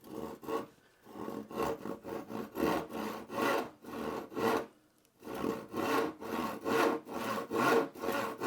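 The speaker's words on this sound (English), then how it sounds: "Do have to ask myself why I chose to use a handsaw on probably the hottest day that's ever been in Wales." Handsaw cutting through wood for a workbench vice base, a steady close rhythm of push-and-pull rasping strokes with two brief pauses, no voices.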